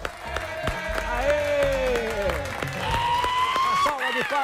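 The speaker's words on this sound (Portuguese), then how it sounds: "Quero uma salva de palmas para nossa produção." Studio audience applause for the production team on a Brazilian TV news program, steady clapping under a host's excited voice and musical tones throughout.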